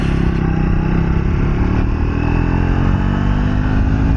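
A Triumph Speed 400 motorcycle pulls away in third gear, its single-cylinder engine laboring in a loud, steady, close drone with a rough low throb and no voices.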